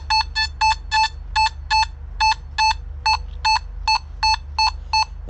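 A Nokta Makro Simplex+ metal detector sounds a rapid series of about fifteen short, even electronic beeps over a sterling silver spoon, loud and close, repeating in a steady rhythm over a low hum.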